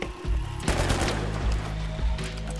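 Video-game gunfire from The Finals crackles in rapid bursts: a sharp shot near the start, then a dense automatic volley with repeated booming reports, loud and close.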